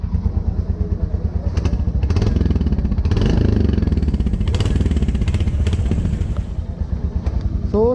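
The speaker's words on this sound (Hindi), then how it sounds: "But the good thing is royal Enfield thump इसमें प्रॉपर है।" A Royal Enfield Hunter 350 motorcycle thumps along while being ridden on the road, its loud, close single-cylinder pulse running continuously, with a slight swell of revs partway through and no talk over it.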